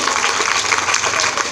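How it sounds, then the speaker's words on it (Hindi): Loud, dense applause from an audience at a skill-training graduation ceremony, honouring the Prime Minister's birthday, a steady wash of many hands clapping close by throughout. "एक बार जोरदार तालियां बजा दो उनके लिए"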